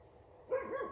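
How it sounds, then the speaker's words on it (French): Female dogs bark in a short burst partway through, fairly close and moderately loud, after a quiet stretch of background hum. "Donc, c'est les chiennes qui aboient."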